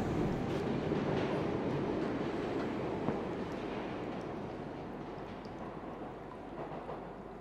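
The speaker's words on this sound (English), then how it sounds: "just on a train now." Train riding along in the video game A Memoir Blue, a continuous heavy rumble of wheels and carriage that stays loud and even throughout, fading slightly toward the end.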